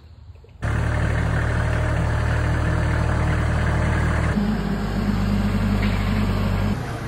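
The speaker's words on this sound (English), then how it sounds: "Get the old tractor cranked up." An old tractor engine starts abruptly after a brief quiet moment and then settles into a loud, steady idle close by, its tone shifting slightly partway through, with no talk over it.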